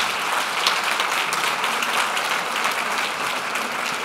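A hall full of people at a national arbitration conference claps loudly and continuously, a thick even wash of applause with no voices on top.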